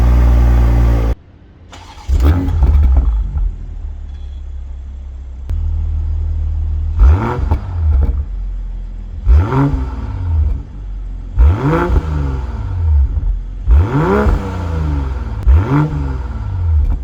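Toyota GR Supra with a 3.0 inline-six twin-scroll turbo engine revving in a series of about five sharp, loud blips, each rising and falling away over a deep, steady idle rumble, with no talk.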